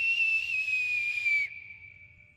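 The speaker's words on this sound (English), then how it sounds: "she's going to teach me a whistle" A clear, sustained whistle from the game Skyrim holds a steady pitch, then drops slightly and fades away alone. A faint low hum runs underneath.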